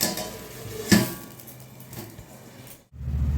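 A metal lid set down on a cooking pot of potatoes in a home kitchen gives one sharp clank near the start, followed by quiet kitchen noise and a brief hush.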